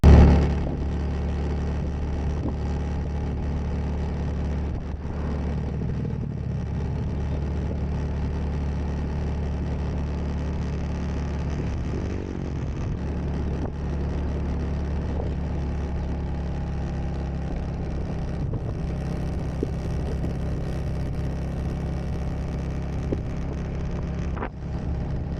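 Steady engine drone of an old, noisy motorcycle being ridden on a bumpy road in Rizal, Philippines, a continuous low rumble running unbroken throughout with no talk.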